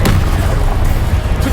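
A single loud, close boom from the Confringo blasting spell in Hogwarts Legacy, a heavy explosive burst with a rumbling tail lasting over a second.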